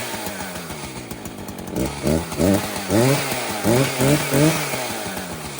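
An Echo CS-590 chainsaw engine fires up after idling, then revs repeatedly in loud rising bursts before settling back to a steady idle, close and with no talking.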